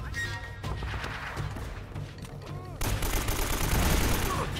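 Bursts of gunfire from the Uncharted action game, dense volleys of shots and impacts rolling over a steady game soundscape, with someone talking lightly over the action.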